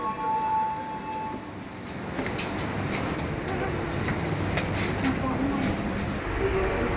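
The local train running between Malang and Surabaya pulls away, giving off a continuous broad rumble with faint clicks and knocks, heard from inside over a murmur of voices.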